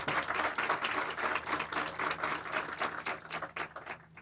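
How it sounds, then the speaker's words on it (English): A college groundbreaking audience applauds faculty and staff with steady, dense clapping that holds for about four seconds, fairly loud and close, fading slightly toward the end. "let's give them a round of applause."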